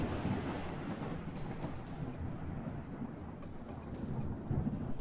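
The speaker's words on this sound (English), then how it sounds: "We made some sound effects for the rain," Thunder made as a sound effect for a rainy video game rolls as a low, continuous rumble that stays faint and steady throughout, with no voices.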